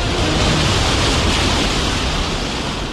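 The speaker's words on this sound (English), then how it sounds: "Waves hit Doolin Pier at roughly 10 to 20 miles per hour" Ocean waves strike Doolin Pier in a loud, close, continuous rush of surf that fills the whole moment without a break.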